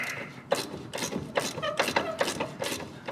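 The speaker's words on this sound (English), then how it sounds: "you're gonna need a 18 millimeter wrench to hold this nut down here while you loosen the top nut with a deep well" Ratchet with a deep well socket loosens the top shock absorber nut on a 1997–2003 Ford F-150 V8, a series of sharp, rhythmic metallic clicks at close range, about six quick strokes.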